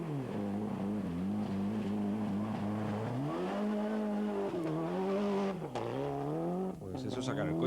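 A rally car in the 1996 Safari Rally races through a mud puddle, its engine droning loud and steady, shifting pitch as it revs, with splashing and rough bursts near the end.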